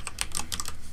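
Brisk typing on a computer keyboard, several sharp key clicks in quick succession, close and clear, with nobody talking.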